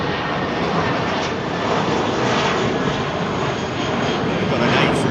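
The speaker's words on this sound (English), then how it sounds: "Got an American 777 pushing back" At London Heathrow, an American Airlines Boeing 777 pushes back while a loud, continuous jet engine whine and roar holds steady throughout, with no one speaking.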